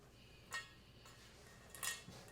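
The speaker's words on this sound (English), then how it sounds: "we're going to stir in the brandy" Brandy is stirred into dried fruit for fruitcake: a spoon clinks against a bowl twice with soft scraping in between, close and quiet with no talking.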